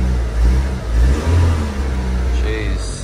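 A Vauxhall Astra with a flat-sounding engine revs in rising and falling surges, close and loud, with a voice talking over it.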